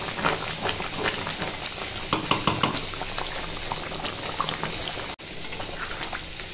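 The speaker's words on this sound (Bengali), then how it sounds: "এদিকে মাংসটা রান্না হচ্ছে, মাংসটা হয়েই এসেছে, অল্প সময় একটু ফুটিয়ে নেব" Chicken curry simmers in a pot, a continuous close bubbling and boiling with small pops and sizzle throughout, no talk.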